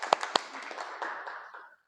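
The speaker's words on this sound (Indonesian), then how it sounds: "Beri tepuk tangan buat Anissa." A class of students gives a short round of hand clapping: two sharp claps up front, then a brief scattered patter that quickly fades out.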